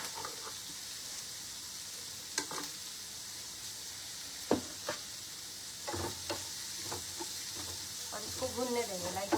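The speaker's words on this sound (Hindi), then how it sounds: "तो ये सब कढ़ाई में डालने के बाद इसको थोड़ी देर भूनने देंगे।" Onion, capsicum, carrots and French beans sauté in a kadhai with a soft, low sizzle, broken by scattered spoon clinks and scraping as the vegetables are stirred.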